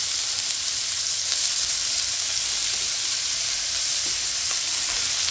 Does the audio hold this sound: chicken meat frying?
yes